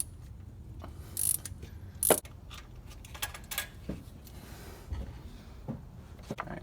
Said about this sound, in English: extension and my little swivel ratchet here. This is a really handy tool.